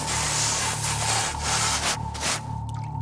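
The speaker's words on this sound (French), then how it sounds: "Ils enlèvent d'abord la neige qui recouvre la glace." Snow is scraped off the ice of a frozen lake in steady, rough, rasping strokes, loud and close, with a low steady hum running underneath.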